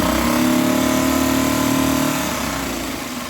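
An Evinrude single-cylinder four-stroke outboard motor runs smoothly and loudly up close, a steady even drone that eases slightly lower toward the end.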